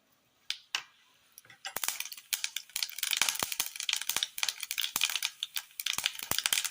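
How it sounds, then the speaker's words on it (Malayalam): Mustard seeds spluttering in hot oil in a cooking pot: after a couple of isolated taps, a dense crackle of sharp little pops builds and keeps going, close and lively, with no voices. "ചൂടായ എണ്ണയിലേക്ക് കടുകിട്ട് കൊടുക്കാം"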